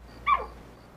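In a scene from The Journey of Natty Gann, a dog lets out a single brief, high whimper, close and isolated against quiet background hum.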